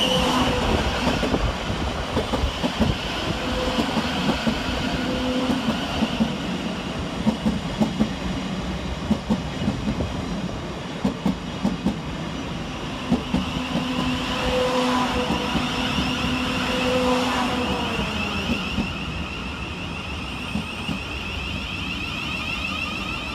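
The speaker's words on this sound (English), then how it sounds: "Next to arrive into the station is 700 142, working the 1040 Govia Thameslink service from Bedford to Brighton." A Govia Thameslink Class 700 train, unit 700 142 on a Bedford to Brighton service, pulls into Three Bridges station with a loud, steady rumble, rhythmic wheel clatter and squealing tones, no voices.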